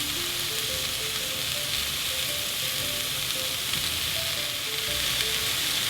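Tomatoes go into a hot pan for callaloo with bacon, giving a steady, close, crackling sizzle with faint stirring, with no talk.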